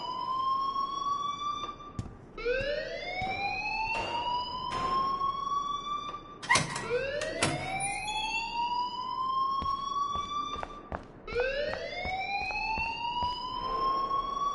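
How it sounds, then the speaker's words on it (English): In the video game Life Is Strange, a loud wailing alarm sweeps up and down repeatedly in long siren-like cycles, broken by sharp clanks and thumps across the scene. "please turn off that alarm since that's your job."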